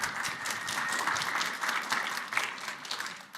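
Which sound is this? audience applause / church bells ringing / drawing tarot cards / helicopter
audience applause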